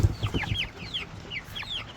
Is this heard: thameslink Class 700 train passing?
no